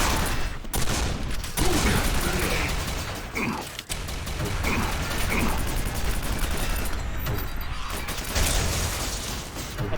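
Rapid sustained weapon fire in the PC shooter Quake 4 on Lieutenant difficulty, a dense continuous fusillade with mechanical clanks and brief gaps, loud and close throughout.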